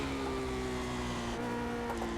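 A Lotus 79 Formula 1 race car engine on the Nordschleife in a racing video game, a steady droning high-revving tone held close and loud for a couple of seconds.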